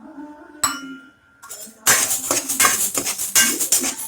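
Moong dal tipped into a pan where urad dal is dry-roasting, heard as a sudden clatter at first, then a dense, close rattle of dry lentils and metal scraping against the pan, with no voices.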